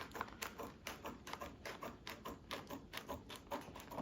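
Scissors or a blade snip along a center seam in quick, rhythmic taps and clicks, faint and close, with no talking.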